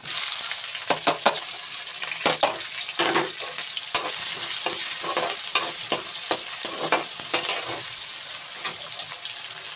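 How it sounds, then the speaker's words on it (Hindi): Onion and garlic frying in oil in a pan with cumin, a steady close crackling sizzle with repeated stirring scrapes throughout and no talking. "अब हम डाल देंगे इसमें प्याज।"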